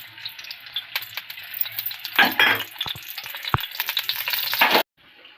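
Hot oil sizzles loudly in a pan for tempering a tomato rasam, a bright crackling burst with stirring scrapes that ends abruptly.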